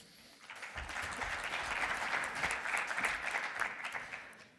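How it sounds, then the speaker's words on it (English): An audience gives a round of applause for someone speaker at an education panel, a dense, even wash of many hands clapping that swells and holds steadily, moderately distant. "Please give her a round of applause"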